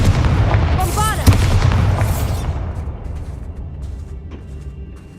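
A Bombarda explosion spell goes off in Hogwarts Legacy, with a sharp, loud blast near the start of a rumbling burst that gradually decays into a fading tail over a few seconds.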